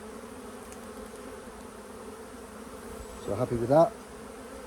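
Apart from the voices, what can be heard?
honey bees buzzing during hive inspection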